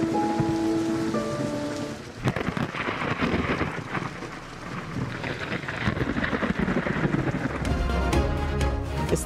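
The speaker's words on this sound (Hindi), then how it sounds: "बादल एक बार फिर बरस पड़े।" Steady rain falls over Islamabad, a dense continuous hiss of drops on surfaces that swells and eases slightly, with a faint low rumble toward the end; a musical tone sits under it at the start.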